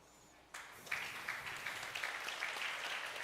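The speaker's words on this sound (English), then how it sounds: "A round of applause." Applause from an audience at the AfriCaribbean Trade and Investment Forum during the Afreximbank Annual Meetings, starting abruptly after a quiet moment and continuing as a steady, moderately loud patter of many hands.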